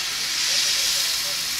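Kefir pancake batter frying in an oiled pan, a steady bright sizzle and hiss that holds even and close throughout with no voices.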